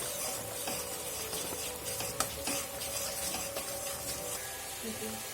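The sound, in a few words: stirring vegetables in a pan for shukto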